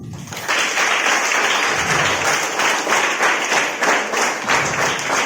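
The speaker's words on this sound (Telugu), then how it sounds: "క్లాప్స్." Loud, steady applause from a crowd of students and audience at a school Diwali celebration, continuous clapping filling the whole stretch after a brief quiet start.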